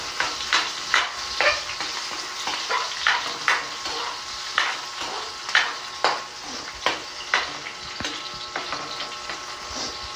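Onions sautéing in a pan for tinola, a steady sizzle broken by regular scraping stirs about once a second, close and fairly loud with no talking.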